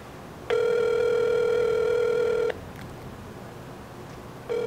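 A phone tone rings through a handset during a prank call to a gas station: one steady two-second burst, a pause of about two seconds, then the next burst beginning, clear and loud over low line hiss.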